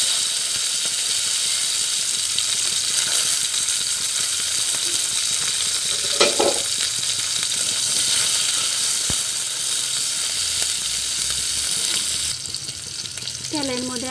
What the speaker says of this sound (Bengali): তেলের মধ্যে আমি টমেটো দিয়ে দিয়েছি, আর এখন লবণ দিয়ে দিলাম